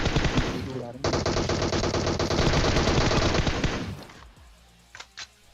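An M4 rifle in PUBG Mobile fires a dense, loud burst of automatic gunfire lasting about three seconds, followed by fading echoes and two brief separate pops.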